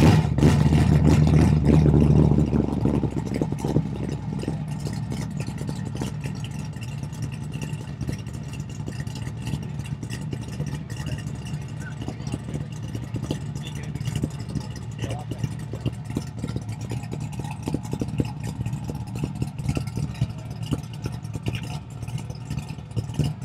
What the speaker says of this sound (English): It turns on like a brand new car